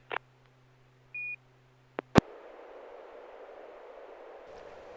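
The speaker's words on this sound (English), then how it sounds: "Okay, courtesy tone from the repeater." A brief, clean courtesy beep from an amateur radio repeater, followed by a sharp click and then a steady hiss of open-channel noise.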